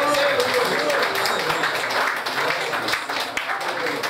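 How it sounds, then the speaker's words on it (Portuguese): A church congregation at an Assembly of God installation service applauding, a moderate wash of clapping with a few sharper claps standing out and voices mixed in. "Você pode aplaudir o Senhor."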